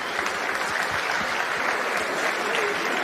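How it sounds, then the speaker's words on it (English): A conference audience at a Bitcoin event in Amsterdam breaks into steady, dense applause, a continuous wash of many hands clapping at moderate distance and filling the whole stretch without any speech over it. "so an applause for all the Bitcoiners who were there for 10 years."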